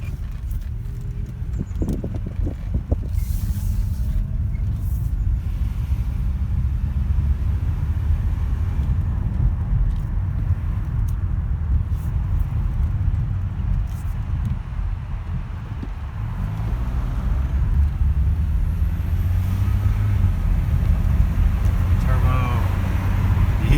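A 1989 Volvo 740 Turbo Intercooler runs with a steady low engine rumble throughout, heard from inside or near the car with road and wind noise and occasional knocks.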